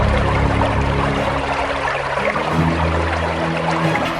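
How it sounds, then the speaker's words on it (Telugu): Water gushes and pours continuously from a sabotaged dam, a loud rushing, splashing flow layered over a low sustained hum, steady for the whole stretch with no voices. "నీరు ఉప్పొంగింది"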